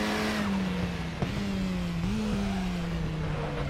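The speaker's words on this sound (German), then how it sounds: "ich gebe jetzt einfach mal Vollgas" A KTM X-Bow RR race car in RaceRoom, driven at full throttle around the Red Bull Ring, its engine holding a loud steady whine with brief dips at gear changes and faint tire noise underneath.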